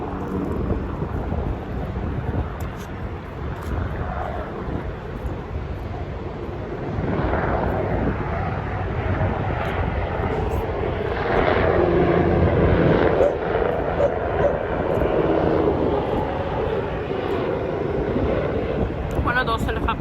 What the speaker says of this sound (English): One of those helicopters.